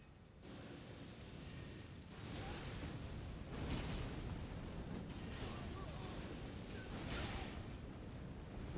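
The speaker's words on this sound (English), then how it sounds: "few explosions never hurt me" Explosions in Elden Ring come as several muffled, rushing blasts spaced a second or two apart over a continuous low roar, heard faintly at a distance.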